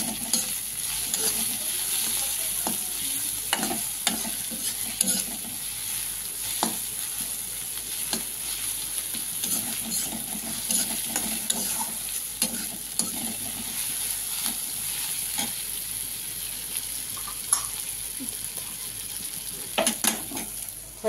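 Drumstick leaves frying in a pan for moong dal, a steady close sizzle with repeated scrapes and clinks of a spatula stirring throughout, no talking.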